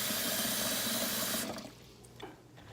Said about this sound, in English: you want to fill it up quite a bit, giving the beans enough room to expand and absorb a lot of water.